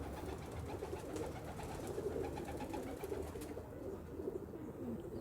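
Pigeons cooing steadily in a loft where a large breeder male is kept, soft overlapping coos repeating throughout at close range.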